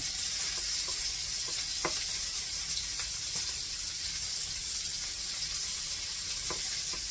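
Butter sizzling steadily in a frying pan, a dense continuous hiss with occasional small pops and crackles, close and alone with no talking.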